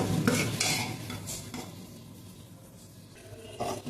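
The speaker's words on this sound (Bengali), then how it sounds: "এবার ভালো করে মাখাবো।" Close, brisk hand-mixing of food in a bowl, with wet squelches and scraping in uneven bursts that quiet midway, then a final scrape.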